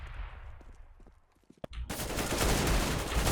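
Rapid automatic gunfire from Counter-Strike during a pro match qualifier, a loud sustained burst following a few faint clicks and a single sharp shot.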